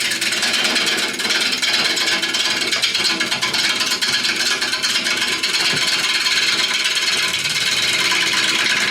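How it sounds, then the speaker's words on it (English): A bowl gouge takes a roughing cut on a wood lathe, producing a loud, dense, unbroken rasping and shearing roar that holds steady for the full stretch, with no voices over it. "So this is the first of 5 cuts, 5 primary cuts that the gouge will do, which I affectionately call a roughing cut"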